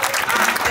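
Crowd at an outdoor sports event bursts into loud, dense applause for the team, a steady wash of many hands clapping close by.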